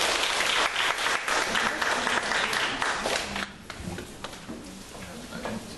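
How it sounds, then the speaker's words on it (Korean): Audience applause for a teacher introduced on stage at an education lecture, a dense, loud burst of clapping from a crowd that thins and softens toward the end. "박수로 보내주십시오."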